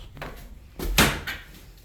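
A door on an old building is worked open and shut, giving a couple of close thuds with one louder bang in the middle and a short rattle after, with no talk.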